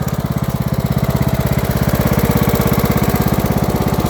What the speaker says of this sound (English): I think this mower working pretty good.